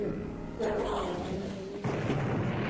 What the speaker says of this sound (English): It's another napalm cannon.